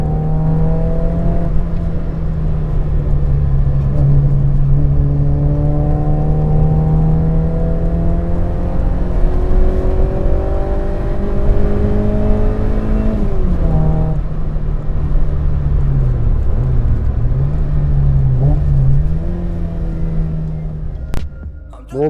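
A Fiat Cinquecento Trofeo replica driven hard from inside the cabin, its small engine droning loudly and steadily while rising and falling through several gear changes, with someone talking over the engine noise.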